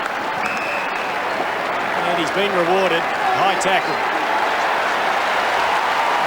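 Crowd applause and cheering at an Australian football match between the Adelaide Crows and Western Bulldogs, a broad steady roar throughout with a commentator talking over it.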